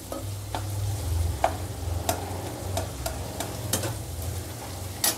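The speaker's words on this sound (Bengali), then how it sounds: "এখানে পেঁয়াজ আর ক্যাপসিকামটা ভেজে নিচ্ছি" Onion and capsicum frying in a pan, a soft, low sizzle under a faint hum, broken by occasional light taps and scrapes of a stirring spoon.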